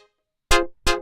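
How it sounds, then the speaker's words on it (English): Minimoog plugin synth with no effects, two short punchy bright notes struck in quick succession after a brief tail of a previous note, each with a sharp attack and fast decay, dry and close. "this was made using the Minimoog plugin"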